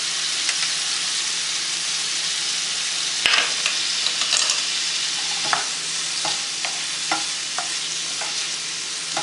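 Moong dal and vegetables are stirred in a frying pan. A soft steady sizzle runs throughout, and several sharp scraping clicks of the spoon against the pan are scattered across it.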